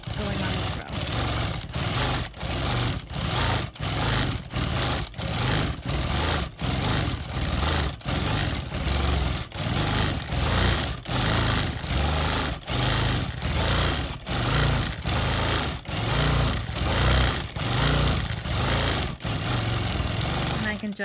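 A sewing machine couching yarn onto upholstery fabric runs steadily and close, with a fast, even stitching whir that carries through the whole stretch, broken by brief regular dips.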